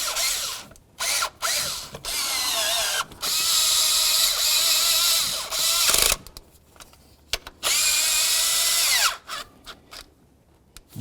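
Power drill or impact driver tightening new bolts on a performance ignition coil of a 2009-18 RAM 1500, several loud whirring bursts of varying length separated by short pauses.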